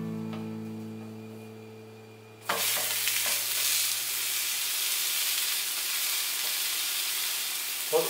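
A vegetable uttapam, just flipped in a pan, sets off a sudden loud sizzle that stays strong and even, with a few faint scrapes and a final clatter; before the flip a low steady hum is heard.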